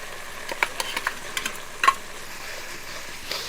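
Chicken cooking with ground spice paste, coriander, garlic, chillies and yam in a hot pan, a soft steady sizzle broken by several sharp scrapes and clinks of a stirring spoon.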